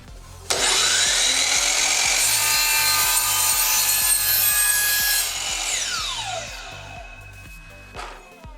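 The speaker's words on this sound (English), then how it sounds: "We're going to lock the fence down and go ahead and make our cut." A DeWalt DW716 miter saw spins up with a sudden loud whine and cuts through a wooden fence, the blade screaming steadily for several seconds before winding down with a falling pitch.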